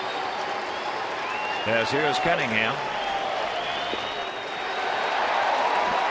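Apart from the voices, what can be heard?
baseball stadium crowd applauding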